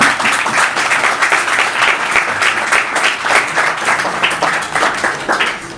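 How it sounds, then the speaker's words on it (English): A public speaking contest audience bursts into loud, sustained applause, a dense steady wash of many hands clapping close by with no speech over it. "So let's give us a big round of applause."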